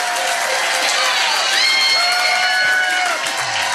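A pub trivia quiz crowd at The Yard bursts into continuous applause and cheering for the winners, dense clapping with whoops and whistles throughout.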